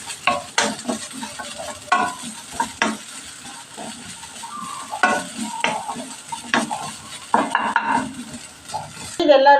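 Grated coconut roasting in a pan with garlic, stirred briskly so a spoon repeatedly scrapes and clinks against the metal over a faint sizzle.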